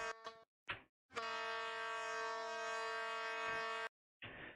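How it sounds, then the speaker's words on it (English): An Intercity 125 train horn in the RO-Scale video game: a few short toots, then one loud sustained two-tone blast lasting about three seconds, followed by a brief final sounding. "And we're definitely still using this train horn"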